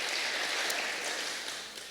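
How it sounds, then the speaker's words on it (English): Audience at a mayor's State of the City address clapping steadily, a dense close wash of applause that holds throughout and tapers slightly at the end. "You can certainly applaud about that."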